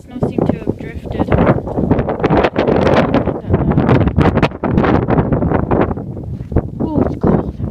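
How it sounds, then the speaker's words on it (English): Strong blizzard wind buffets the microphone in loud, continuous gusts amid drifting snow beside a car, while a person talks over the roar. "it's really windy."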